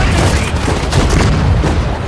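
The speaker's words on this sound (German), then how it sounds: "Feuer! Artillerie! Feuer!" Artillery firing in the World War II strategy game Sudden Strike 4: dense, rumbling booms and crackling bursts overlap in a steady barrage with no pauses.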